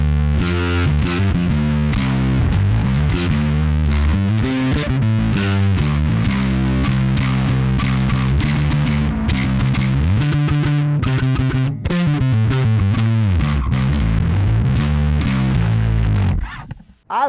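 A bass guitar runs through a Fender Bassman modern fuzz pedal, giving a crunchier, gritty distorted tone; continuous loud close riffing with a short break near the end.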